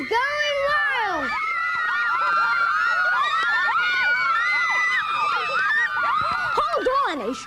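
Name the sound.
crowd cheering wildly at a ball game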